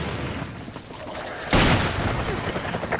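Gunfire from Resident Evil 5 Versus bursts out suddenly midway, a loud, dense volley of shots over game noise and ambient sound, with people talking faintly beneath.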